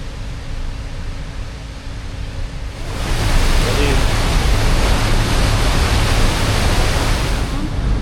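Water pours over Yarrawonga Weir at Lake Mulwala in a loud, continuous broadband rush that swells noticeably partway through and then holds steady, close and enveloping.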